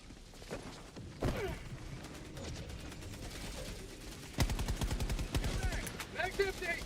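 Gunfire from a weapon in the video game Helldivers 2: several loud bursts of rapid shots, heaviest in the second half, over busy game sound.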